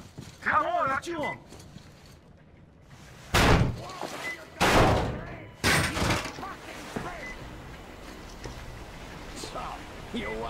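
A door in Metro Exodus gives way under heavy blows, with several loud, close slams and crashing thuds spaced over a few seconds, amid shouted voices and other game noise.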